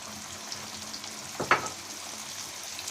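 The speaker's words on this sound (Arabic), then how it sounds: "وبنبتدي نقليه في زيت سخن" Breaded chicken panné frying in moderately hot oil gives a quiet, steady sizzle, with a brief louder crackle partway through.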